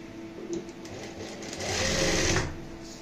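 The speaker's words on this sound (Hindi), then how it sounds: "तो यहाँ पे हम इसी निशान के ऊपर इस तरीके से सिलाई लगाएंगे।" Electric sewing machine stitching a blouse, running close at a steady whirring pace that speeds up and grows louder midway, then eases off; no one talks.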